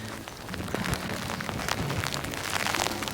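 Steady rain falls during a horse-riding session, a dense, even hiss of drops spattering on surfaces close by that runs the whole time with no voices.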